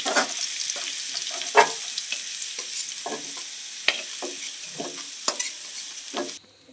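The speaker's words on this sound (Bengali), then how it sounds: "এই যে আমার আলুটা ভাজা হয়ে গেছে, দেখতেই পাচ্ছ লাল লাল করে ভেজে নিয়েছি।" Potatoes fry in oil with a steady sizzle, punctuated by repeated spatula scrapes and knocks against the pan, close up, ending abruptly as the sound cuts off.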